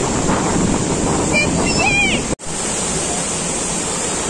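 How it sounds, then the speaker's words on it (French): Water spraying down from above onto people among bushes outdoors, a dense, steady hissing rush close by that holds for several seconds, with a brief voice audible partway through. "On reçoit de l'eau sur la tête."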